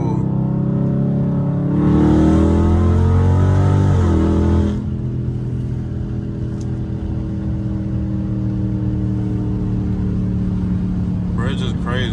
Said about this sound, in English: Let me do a little third gear pull.